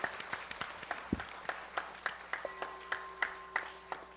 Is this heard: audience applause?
yes